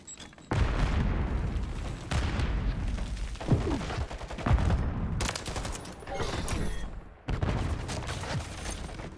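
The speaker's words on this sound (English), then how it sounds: "There was something that was shooting at me" Gunfire in Call of Duty MW3, with loud bursts of automatic fire and sharp shots coming in several close volleys, separated by short pauses.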